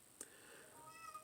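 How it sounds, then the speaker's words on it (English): A house cat meows faintly in the background, a thin drawn-out cry sounding once or twice over a quiet room hum. "That's my cat in the background, if you're wondering what that crying is."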